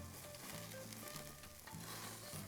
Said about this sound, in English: let's give it a basting of this amazing peri peri sauce